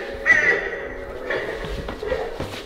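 An animatronic Halloween crow decoration lets out a loud, harsh caw near the start, followed by further raspy calls amid faint room noise.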